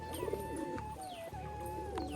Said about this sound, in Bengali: পায়রা দুটোকে এখন বাইরে ছাড়বো